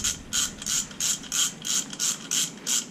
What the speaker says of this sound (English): so I can screw these cylinder studs all the way in